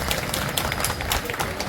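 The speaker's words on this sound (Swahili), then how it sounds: "hebu tuwapigie makofi mengi sana" A crowd claps for two men who have just reconciled at a public event, a short burst of dense applause with loud cheering voices mixed in.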